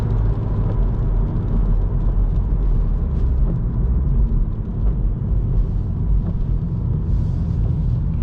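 BMW 118i F21 engine heard from inside the car at night while shifting down gears, a loud steady low rumble and drone with road noise, with no talking.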